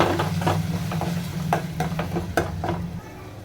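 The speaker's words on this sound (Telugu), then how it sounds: "ఈ టమాటాలు కూడా బాగా వండుకోవాలి" Tomatoes frying in a pan as they are stirred, a steady sizzle with repeated scraping strokes of a spoon at an uneven rhythm, close and fairly quiet, easing off toward the end.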